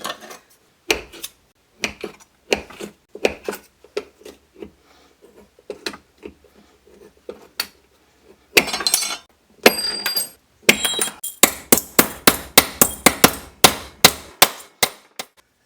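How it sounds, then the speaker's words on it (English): Tin snips cutting scrap aluminum, giving a series of sharp metallic clanks and snaps, sparse at first and then quick and regular, close and alone without talk. "you would think aluminum would be easy to cut with tin snips"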